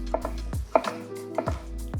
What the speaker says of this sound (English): I can use that in the chopping motion, but also in the circular rocking motion